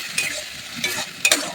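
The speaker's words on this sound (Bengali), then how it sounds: "এবার আদা রসুন বাটা দিয়ে ভালো করে নেড়ে নিচ্ছি কড়াইটা" Ginger-garlic paste with onion and tomato being stirred in a wok for a rajma curry: a soft sizzle underneath, broken by three distinct scraping strokes of the spatula against the pan, close up.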